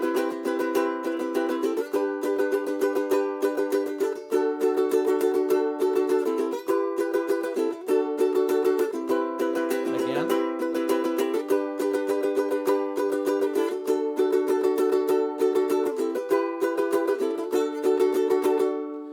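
Ukulele strummed along to a song with a steady pattern that accents the downbeats, chords ringing evenly and close for the whole stretch with no talking.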